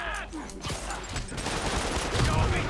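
A flash grenade goes off in the video game Spider-Man PS4 with a sharp burst followed by a rattling, crackling spread of impacts and noise, amid game effects and a faint voice.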